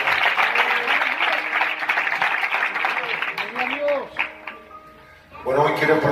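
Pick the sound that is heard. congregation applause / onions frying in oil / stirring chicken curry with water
congregation applause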